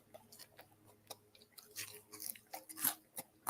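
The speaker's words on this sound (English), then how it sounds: "I hate the chewing." Someone chews chicken nuggets close to the microphone. The wet, crunching bites come quietly in an uneven rhythm.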